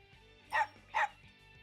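Two quick, close barks from a dog in the Persona 4 Arena Ultimax video game, evenly spaced and loud over a quiet backdrop.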